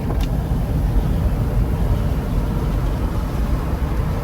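Steady low rumble of wind and road noise pouring through an open car window while driving, broadband and constant at moderate loudness with no voices.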